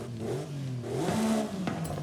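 Porsche 911 race car in Forza with an upgraded intake, engine revving steadily for about two seconds with a rising, building tone, loud and close, no voices.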